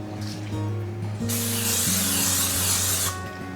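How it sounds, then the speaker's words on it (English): A short aerosol oil cooking spray hisses into a bundt pan for a couple of seconds, loud and close, over a low steady hum with faint tones in the background. "I'm just gonna use oil spray."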